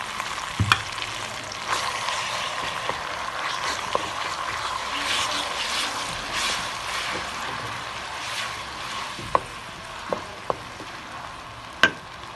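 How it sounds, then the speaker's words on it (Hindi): Onion with garlic and ginger paste frying in a pan, a steady close sizzle with soft stirring scrapes and a few sharp clinks of a spoon against the pan. "प्याज फ्राई हो, लहसुन और अदरक का पेस्ट थोड़ा सा फ्राई हो चुका है"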